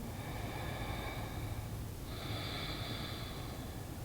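Slow, deep breathing during a beginner yoga session: a close, soft inhale and exhale with a faint nasal rush, heard alone over a steady low room hum.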